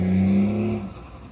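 A truck engine revs loudly with a steady low rumble, then winds down and fades over about a second, heard alone without talk.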